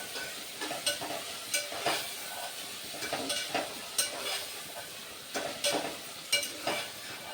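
Tomatoes fry in a pan while being stirred, a soft steady sizzle punctuated by repeated scraping strokes of the spoon at an irregular rhythm, fairly faint and close.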